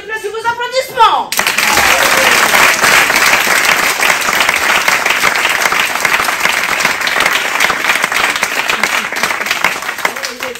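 Loud, dense applause fills a cabaret hall at a mind-reading show, starting abruptly after a brief spoken line and holding strong to the end.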